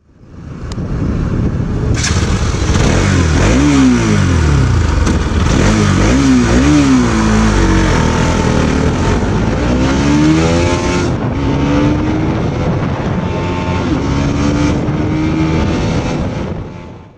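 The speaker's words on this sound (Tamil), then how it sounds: "வண்டியோட எக்ஸாஸ்ட் சவுண்ட் வந்து செம்மையாக இருக்குது." A Bajaj Pulsar NS200 BS6 motorcycle with an underbelly exhaust revs close by. It makes repeated loud throttle blips with rising and falling pitch, then settles into a sustained higher rev and drops off at the end.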